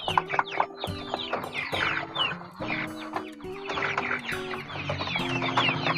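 Several backyard chickens raised without vaccines or herbal remedies cluck steadily and close up, their calls overlapping in a busy, continuous flock chatter with no talk.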